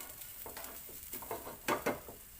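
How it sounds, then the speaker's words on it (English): Ingredients for coconut and mint chutney roasting in a pan on the stove, with a soft continuous sizzle broken by a spatula's scraping stirs, two louder scrapes standing out near the end. "just roast this one. Keep stirring it so it doesn't get burned"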